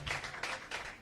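Church congregation clapping during a sermon service, a short spell of quiet applause that swells and fades in a few uneven bursts, heard from some distance.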